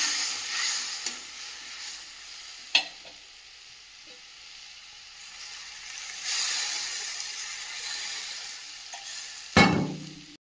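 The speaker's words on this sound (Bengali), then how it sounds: "ঝোলটা ফুটে গেছে।" Fish curry gravy in a pan simmering with a steady soft hiss and bubbling, punctuated by a couple of sharp clinks or scrapes near the start and end.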